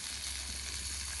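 Venison shanks brown in a hot cast iron pan, giving a steady, even sizzle with no pauses, moderately loud and close.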